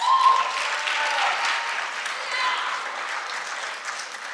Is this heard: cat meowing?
no